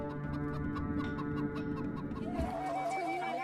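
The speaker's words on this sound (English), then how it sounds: "That's right, the common chicken." Chickens cluck in a rapid, repeated series of short calls at moderate volume, with no talking over them.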